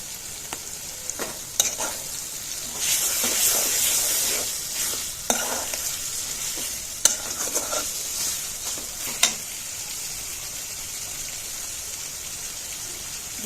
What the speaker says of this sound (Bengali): পেঁয়াজটা প্রায় অর্ধেক ভাজা হয়ে গেছে, কলিজাটা তো ভাজতে হবে